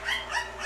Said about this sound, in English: Apologies for my dogs barking. They are seeing somebody walking by.